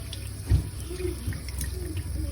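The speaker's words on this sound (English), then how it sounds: "I put it on the water to get all that out" Silver jewelry rinsed under a running tap indoors, a soft steady stream of water with a brief splash or knock early on, close and fairly quiet.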